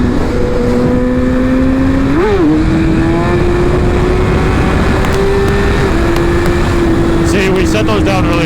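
A BMW S1000RR sport motorcycle engine drones and revs in a sustained tone, rising briefly in pitch a few times, loud and close throughout.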